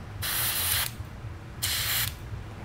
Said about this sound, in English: I'm gonna just spray it in here, make sure it's flowing right.